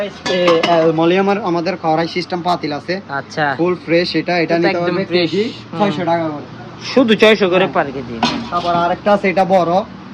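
Turkish-made double-layer, induction-ready pots and pans clank and clink as they are handled, mostly masked by continuous close talking.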